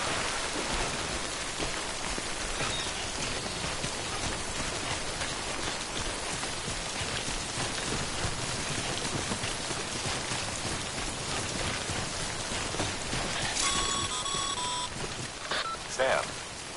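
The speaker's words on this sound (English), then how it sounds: "Don't stay out in the rain any longer than you have to." Steady rain pours in the video game Death Stranding, a dense even hiss of drops on surfaces throughout, with a few faint electronic beeps near the end.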